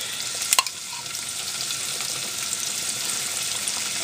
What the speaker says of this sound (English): Into that, putting the onion and green pepper and a little garlic.